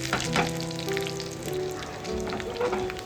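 Hot tempering with curry leaves poured over drumstick kootu, giving a bright crackling sizzle that swells at the start and continues steadily at close range.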